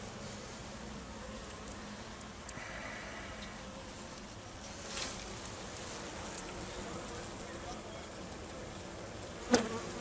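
Honeybees hum steadily at an open hive during winter preparation, a dense close buzz that continues throughout, with a couple of brief knocks and no talking.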